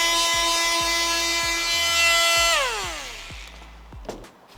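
A cordless oscillating multitool chamfering off a wood edge, a loud buzzing whine with rhythmic cutting ticks that drops in pitch as the tool winds down, followed by brief rubbing and tapping.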